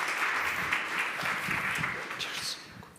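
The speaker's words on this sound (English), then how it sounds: "Let's give a round of applause for them." An audience at a team presentation event applauds with dense, sustained clapping from start to finish, tapering off slightly at the very end.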